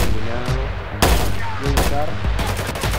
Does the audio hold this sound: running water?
no